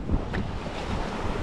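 Sea waves at Hørup Hav near Als, sloshing and churning under heavy wind buffeting on the microphone, a loud, continuous wash with no voices.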